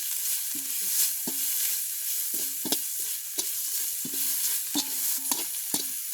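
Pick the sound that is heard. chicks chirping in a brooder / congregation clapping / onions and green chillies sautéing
onions and green chillies sautéing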